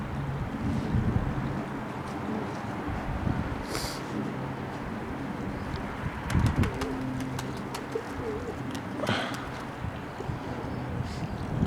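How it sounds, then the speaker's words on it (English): Straight-tailed doves flying about in a backyard loft area, with steady outdoor bird sounds, soft cooing and occasional wing flutters and rustling throughout, fairly close. "That's all my straight-tailed doves"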